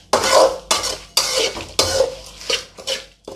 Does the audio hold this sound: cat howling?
no